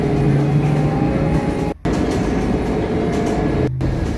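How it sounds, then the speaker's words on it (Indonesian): Inside a Transjakarta bus driving fast, a steady low rumble of engine and road fills the cabin, with continuous rattling and a couple of brief dropouts, and no one speaking. "Bus melaju dengan kencang."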